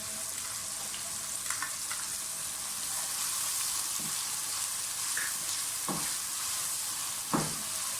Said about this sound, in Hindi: अच्छी तरह से फ्राई कर लें सब चीज़ों को।